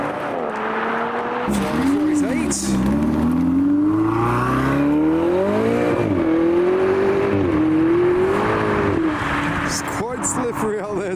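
Porsche Cayman GT4 engine revving loudly and close by in a frosty outdoor spot, rising and falling through repeated blips while people talk over it.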